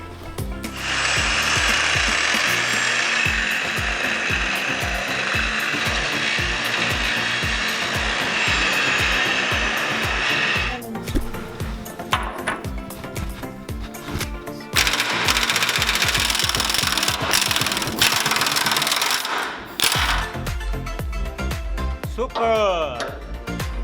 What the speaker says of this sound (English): So I'm going to grind this material away and then I can unbolt it hopefully.